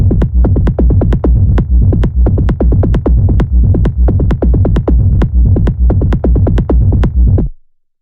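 Bass house synth bass with a techno flavour, locked together with a kick drum in a dense, driving groove of rapid, loud, evenly pulsing hits.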